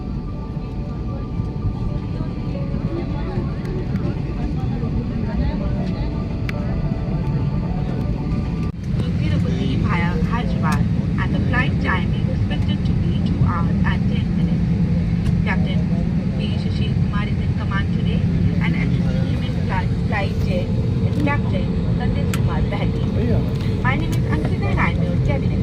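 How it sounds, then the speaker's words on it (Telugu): An Air India A320 reverses at Delhi International Airport before takeoff, heard from the cabin as a steady low engine hum that grows fuller partway through, with people talking over it. "రివర్స్ అవుతుందన్నమాట ఫ్లైట్. టేక్ ఆఫ్కి రెడీగా అవుతుంది."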